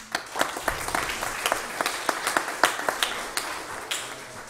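Scattered applause at a city council meeting honoring students on the A and B honor rolls, individual claps distinct and uneven, a modest audience clapping alone for a few seconds.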